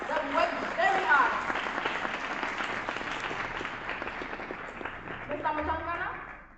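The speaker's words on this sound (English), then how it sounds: "May we please give them another round of applause" Audience applause at a school award ceremony, a sustained round of clapping from a crowd that fades gradually, with some voices audible over it.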